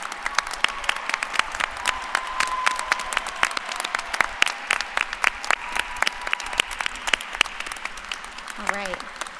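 A large crowd applauds nursing graduates at the VCU School of Nursing spring 2021 commencement, with steady, dense clapping throughout and a brief voice near the end.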